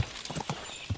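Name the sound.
horse hooves galloping in a video game (Kingdom Come Deliverance 2)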